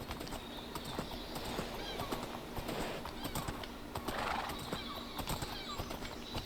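Horse hooves clop in quick rhythmic beats while riding in Minecraft, with a whinny partway through and faint keyboard tapping underneath.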